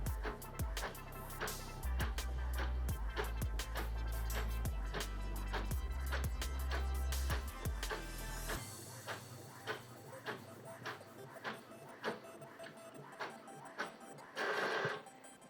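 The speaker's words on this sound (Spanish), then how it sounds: "Y ahí está imprimiendo ya el otro lado" An Epson L4260 inkjet printer prints the second side of a page, with a rhythmic mechanical ticking and a low feed rumble that stops partway, followed by lighter clicks and a brief whir, all nearby.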